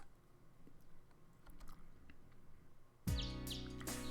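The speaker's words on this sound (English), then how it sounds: "I hear the sounds of birds chirping." Birds chirp in a chilly morning scene from the Kanon visual novel, bright repeated tweets bursting in abruptly after a quiet stretch and continuing clearly over a humming background.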